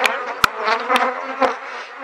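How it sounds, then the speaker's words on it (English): Honeybees buzz close around a top bar hive in a steady drone, with a few sharp clicks or taps punctuating it roughly every half second. "You're probably seeing a lot of bees on the uh, camera lens."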